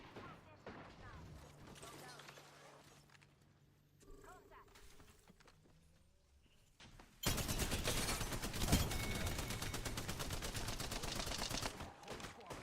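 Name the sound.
gunfire in the video game Apex Legends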